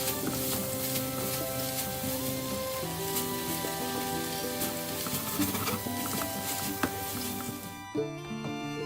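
Chopped godamba roti is tossed and mixed with egg and vegetables in a hot pan, giving a steady close sizzle with busy scraping and clattering stirs throughout; a faint musical tone runs underneath.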